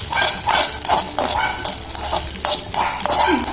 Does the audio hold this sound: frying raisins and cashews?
yes